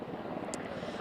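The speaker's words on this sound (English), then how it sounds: "This main helicopter now coming in." A large helicopter flies in on approach as part of a presidential arrival, its engine and rotor making a steady, fairly faint droning roar from a distance.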